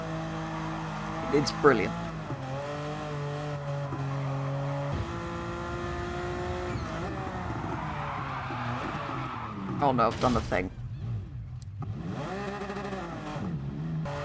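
A Porsche Carrera 2.7 RS races around a circuit in Gran Turismo, engine whining and shifting through gears with bursts of tire squeal and skidding, while a person talks excitedly over it.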